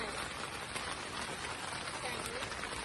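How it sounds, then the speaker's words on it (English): Constant drizzle patters on a camping tent, a dense, even hiss of small drops heard from inside, steady throughout with faint voices mixed in. "We have a constant drizzle. We're in a tent."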